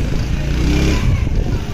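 A motorcycle rides past close by on a neighbourhood street, its loud, dense engine rumble filling the whole stretch steadily.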